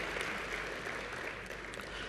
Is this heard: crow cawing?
no